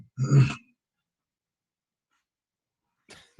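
A single short, close cough bursts out, then silence follows, with a faint breathy sound at the very end.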